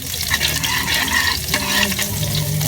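Onion sautéing in a hot pan for Filipino ginisang sardinas with egg: a steady, close sizzle and frying hiss with light stirring scrapes running continuously throughout.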